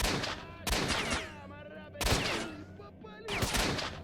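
Heavy gunfire from a firearm in the shooter S.T.A.L.K.E.R. Shadow of Chernobyl: three loud, booming shots spaced more than a second apart, each trailing off in a long rumbling echo.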